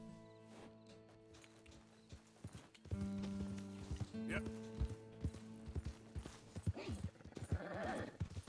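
Horse hooves clip-clopping during a horseback ride in a video game, steady rhythmic steps with a horse whinny and game music, someone talking in Italian over them.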